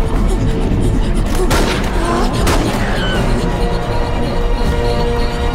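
Dense, loud gunfire and booming blasts fill a dubbed action film scene, with overlapping shots and thuds alongside a continuous rumble.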